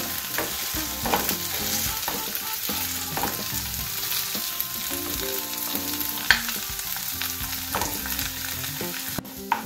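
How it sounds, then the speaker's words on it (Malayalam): Leftover cooked rice pressed with a potato masher in a pot: soft repeated squelching thuds and scrapes at an uneven pace, nearby and moderate in level, no speech. "ഞാനിവിടെ പൊട്ടാറ്റോ മാഷർ എടുത്തിട്ടുണ്ട്, അതുകൊണ്ടാണ് മാഷ് ചെയ്യുന്നത്."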